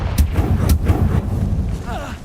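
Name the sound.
Confringo fire spell cast in the video game Hogwarts Legacy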